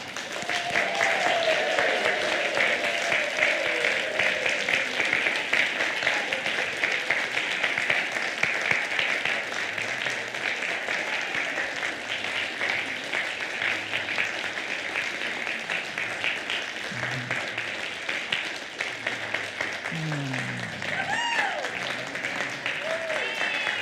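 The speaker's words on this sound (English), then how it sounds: "would you join me in offering that rousing standing ovation?" A congregation in a sanctuary rises in a standing ovation, its sustained applause running unbroken and evenly for over twenty seconds, with a few voices faintly audible over the clapping.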